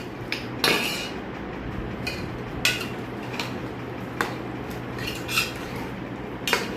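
A spoon clinks and scrapes intermittently against a pot of mutton biryani masala being stirred, with sharp metallic taps at irregular intervals over a low steady kitchen hum.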